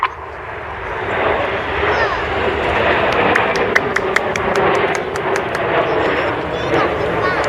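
Red Arrows Hawk jets roar past in the shuttle roll at the Sunderland Air Show, a continuous broad jet rush with a few sharp ticks in the middle, loud and sustained.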